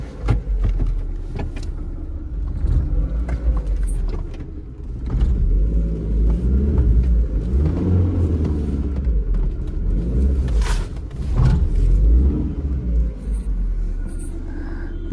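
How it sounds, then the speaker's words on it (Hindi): A car's engine rumbling steadily at close range as it reverses slowly near a vegetable market shop, with mechanical clunks and faint background noise. "यहाँ से भी बैक करनी पड़ेगी गाड़ी मेरे को"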